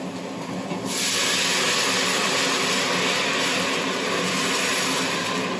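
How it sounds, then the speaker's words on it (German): Beef broth is poured into a pot of Waldviertel-style potato soup, starting abruptly as a loud, steady rushing pour that continues without a break, with no talk over it. "Und jetzt gieße ich mit der Suppe auf."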